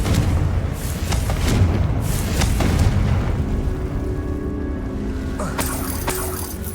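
A Confringo blasting spell explodes in Hogwarts Legacy: a deep, rumbling boom rolls out and fades into a long low roar, followed by fainter magical crackles and a sharp burst near the end.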